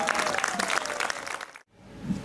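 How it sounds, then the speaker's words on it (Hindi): A crowd at an open-air tent during a night-time poetry recital at a literature festival claps steadily for a poet coming on stage, breaking off suddenly, followed by quieter room noise and a faint murmur. "एक बार जोरदार तालियों से स्वागत कीजिएगा"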